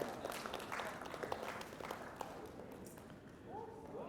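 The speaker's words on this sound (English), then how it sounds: "Together We Stand a round of applause." An audience at a team-building seminar in a Barbados hotel applauds, a dense wash of many hands clapping steadily at moderate distance, fading slightly toward the end with faint voices beneath.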